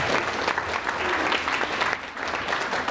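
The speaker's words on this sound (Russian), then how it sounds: "Аплодисменты." A hall audience at a talk titled about an athlete's path breaks into steady, full applause, many hands clapping densely and evenly throughout without any voice rising above it.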